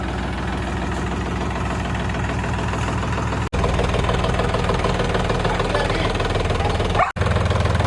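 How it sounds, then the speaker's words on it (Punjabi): Loud, steady chugging of a modified John Deere 5210 turbo tractor engine idling close by, a rapid rhythmic knock that continues unbroken apart from two brief cuts. "ਚਲੋ ਟਰੈਕਟਰ ਲਾਈਏ ਪਟਕਾਣੇ ਜਾ ਕੇ ਤੇ ਖੋਲੀਏ ਇਹਨੂੰ ਹੁਣ ਜਾ ਕੇ"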